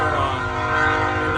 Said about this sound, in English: Hopefully you can hear me over the train.